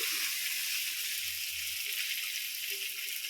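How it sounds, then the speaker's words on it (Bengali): Pointed gourd (potol) fries in hot oil with turmeric and salt, giving a steady, close, bright sizzling hiss that runs without a break. "পটলটা ভেজে নিচ্ছি।"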